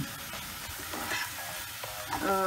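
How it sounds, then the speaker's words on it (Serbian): About 400 g of finely chopped button mushrooms fry in a pan, a continuous close sizzle with soft stirring scrapes, no voices. "Kratko propržiti 400 g šampinjona koje smo prethodno sitno iseckali."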